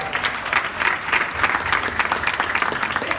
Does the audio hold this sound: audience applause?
yes